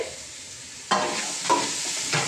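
Chopped onions dropped into hot oil in a pan, with sharp sizzling bursts as they land, then stirring and frying close up, no talking.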